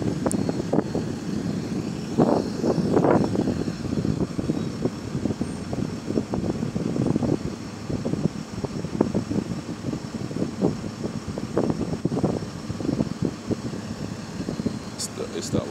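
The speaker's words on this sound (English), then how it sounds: "You can hear the turbo." A GAL WHV186 bus on route 188, its engine rumbling with a faint steady turbocharger whine heard from close by, while people talk over it.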